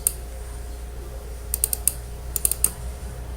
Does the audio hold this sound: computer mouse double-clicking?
yes